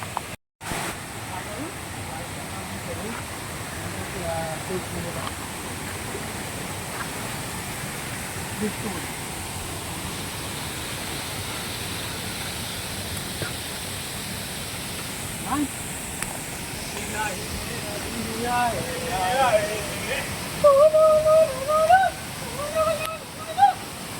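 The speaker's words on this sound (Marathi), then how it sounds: "मी तुम्हाला धबधबा दाखवणार आहे." A waterfall near a village on a trek, heard as a steady broad rush of falling water, faint to moderate, with brief voices and footsteps near the end.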